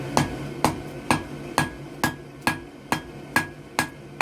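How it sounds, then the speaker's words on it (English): Blacksmith's two-pound hammer striking hot steel at the far edge of an anvil while drawing out a point for a leaf hook, ten evenly spaced ringing blows, close and clear. "the first stage in forging a leaf is to forge a point on the end"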